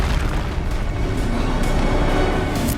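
Incendio fire spell blasting in Hogwarts Legacy, a loud, deep booming roar that rumbles on steadily without a break.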